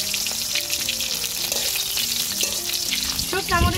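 Dried red chillies fry in oil in a wok for a Bangladeshi bhorta, giving a steady close sizzle with stirring scrapes throughout and a brief clatter near the end; no one speaks.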